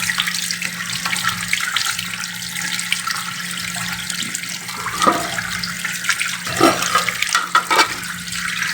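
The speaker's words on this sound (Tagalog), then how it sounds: "Kumulo na yung ating miracle tea." A pot of miracle leaf tea at a rolling boil gives a steady, broad watery hiss with scattered bubbling pops that grow a little livelier toward the end.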